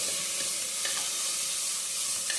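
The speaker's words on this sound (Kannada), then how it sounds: "ಇವಾಗ ಇದಕ್ಕೆ ಜೋಳಿಕಾಯಿ ಹಾಕ್ಕೊಂಡು ಫ್ರೈ ಮಾಡ್ತಾ ಸ್ವಲ್ಪ" Cluster beans are stir-fried in a pan, giving a steady, bright, hissing sizzle up close with faint stirring taps, no voices.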